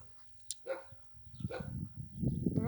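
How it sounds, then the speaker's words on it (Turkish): Dogs snarling and yelping in a scuffle, with short growls and a whine, fairly close, over low rumbling background noise. "Köpekler de boğuşuyor."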